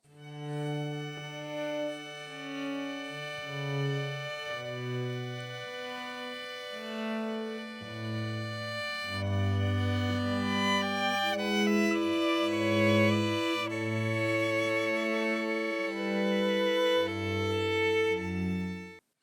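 Dry, close string quartet playing together in sustained, overlapping chords with a moving melody, recorded anechoically with no room echo, steady and full throughout.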